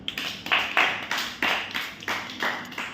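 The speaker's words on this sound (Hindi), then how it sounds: "इनके लिए ताली बजा दो आप लोग।" A group claps in a classroom-style session, short bursts of hand claps repeating roughly every half second, moderately close and steady, with no talking over it.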